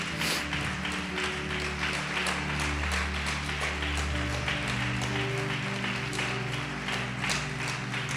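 A church congregation bursts into sustained applause, a steady wash of many hands clapping at once over a backdrop of organ or keyboard music.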